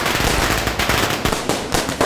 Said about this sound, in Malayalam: അതെ, പടക്കൊക്കെ പൊട്ടുണ്ടല്ലോ.